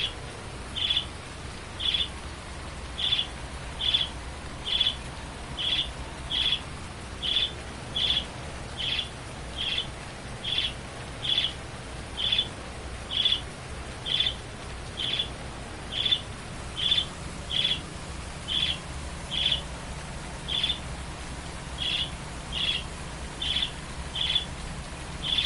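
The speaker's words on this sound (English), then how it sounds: "Oh, bird." A bird repeats a short high call in a steady rhythm, about once a second, over a low machine rumble on a farm.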